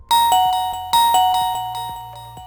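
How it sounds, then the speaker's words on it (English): A Reolink Wi-Fi video doorbell chime rings a repeated two-tone ding-dong, bright and close, each note ringing out and fading. "you will hear a ring if you press the doorbell button"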